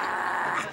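A dog growls low and rough in a brief, continuous rumble, close and moderately loud, with no talking over it.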